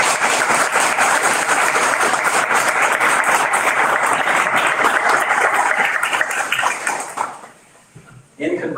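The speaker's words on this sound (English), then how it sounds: "let's give a warm applause to the family and friends who helped you" Warm applause fills a US citizenship ceremony as the crowd claps for family and friends, a dense, steady wash of hands that fades out near the end.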